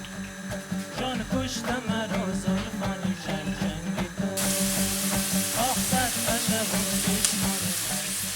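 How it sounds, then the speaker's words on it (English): White onion frying in oil in a pot for chicken machboos: a continuous sizzle with stirring, plus some steady tonal sounds in the background and no talking. "So first you want to add some oil to a pot, followed by some white onion."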